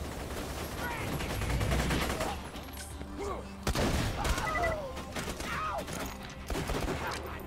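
A Jacobs gun in Borderlands 2 firing semi-automatic shots as fast as the trigger is pulled, in dense, loud volleys amid layered game battle noise.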